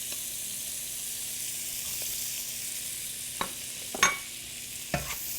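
Cabbage hisses and sizzles in a hot pan as it is stir-fried, a steady loud frying wash with a few sharp clinks of a utensil toward the end and no talking.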